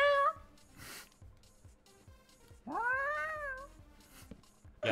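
A cat meows inside the Minecraft video game, two clear rising meows with a short cry at the end, close and distinct over a quiet background.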